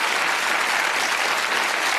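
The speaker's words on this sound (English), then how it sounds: "Give them a round of applause." Studio audience on a Bullseye game show applauding, a dense, even wash of clapping with no voices over it.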